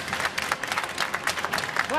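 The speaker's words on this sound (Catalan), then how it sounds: "I aquest aplaudiment per ell." Studio audience applause on a Catalan TV3 evening show, steady brisk clapping from a modest crowd at moderate level, lasting about two seconds.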